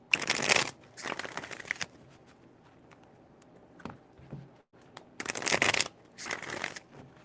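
Tarot cards are shuffled in two quick bursts of riffling, each a second or two of crisp papery flutter, separated by softer handling and small taps, close and fairly quiet with no talking.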